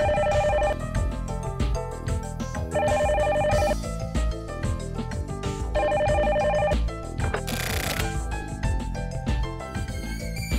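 A telephone rings in The Silver Case Remastered, a video game, with repeated electronic ring bursts over layered game music. The sound is loud and continuous, with no talking.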